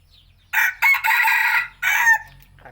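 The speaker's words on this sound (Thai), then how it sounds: "ไก่เพิ่งฝึกครับ แต่ขันดีนะฮะ" A young Thai fighting rooster of a Surin line, newly in training, crows loud and close in one long drawn-out call broken by brief pauses.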